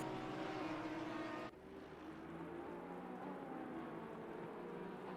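Rain falls on track in a British GT3 Championship sim race at Silverstone, a steady broadband hiss blended with a low engine drone that drops abruptly in level early on, then continues evenly.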